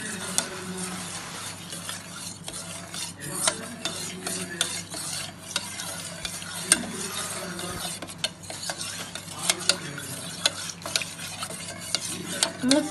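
Kunafa mixture stirred constantly in a pan over a flame, a dense run of close scraping and clicking strokes over a low sizzle, no voices.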